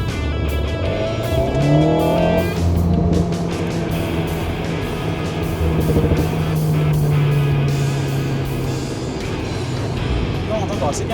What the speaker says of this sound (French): Non, on entend assez bien le turbo.